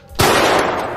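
A single loud pistol shot rings out in a French short film, a sharp close blast with a long noisy tail that fades slowly over the following second.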